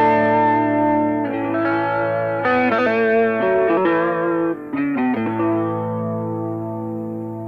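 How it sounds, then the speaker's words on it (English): An electric guitar played through only its neck pickup, the one nearest the fingerboard, runs a sustained melodic lick of bent and held notes with a warm, smooth tone, close and alone without talk. "This is the sound of this pickup, which is nearest to the fingerboard."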